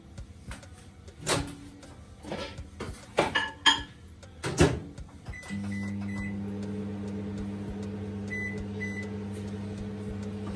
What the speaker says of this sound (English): I'm going to put the butter in the microwave for until it melts.